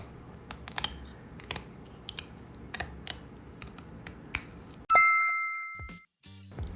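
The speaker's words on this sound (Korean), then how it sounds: "항문에서부터 가위로 조심해서 잘라준 다음" Scissors make a series of sharp, close snipping clicks at an uneven pace, cutting open a fish with hard, thick scales from the vent. A bright electronic chime rings out near the end.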